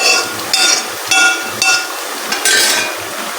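Chicken tikka pieces are tipped into a karahi pan with a run of metallic clinks and scrapes of a utensil against metal, arriving in several short bursts spaced about half a second apart, close and fairly loud.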